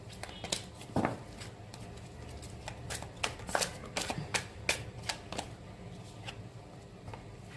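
Tarot cards being shuffled by hand, a run of quick papery riffles and flicks with sharper snaps, close and fairly quiet over a faint room background.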